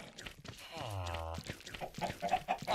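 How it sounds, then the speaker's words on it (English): Chickens cluck in a Minecraft game, with one clear drawn-out squawk near the middle and scattered short clucks after it, fairly close and loud against the game's background noise. "Got a lot of chickens."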